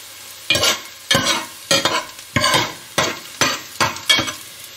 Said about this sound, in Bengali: আমার আদা রসুনটা মোটামুটি ভাজা হয়ে এসেছে